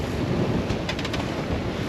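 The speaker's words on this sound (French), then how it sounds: "25 nœuds de vent là," Strong wind rushes and buffets continuously at about 25 knots on a sailboat between the Strait of Messina and the Aeolian Islands, a loud low roar with a brief flurry of faint crackles midway.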